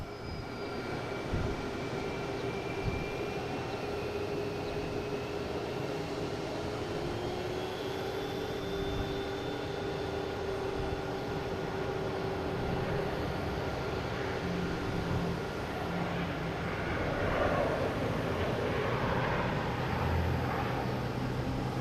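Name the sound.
American Airlines plane landing at Boston Logan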